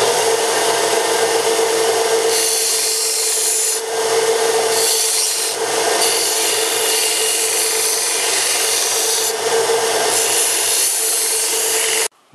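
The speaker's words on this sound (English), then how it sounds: "So the bench grinder is somewhat more coarse than the belt sander, so I just thought I'd let you see as I clean up the top a little bit." A bench grinder grinds down the top of a metal gas block, a loud steady harsh rasp that swells and eases as the piece is pressed and lifted, then stops abruptly at the end.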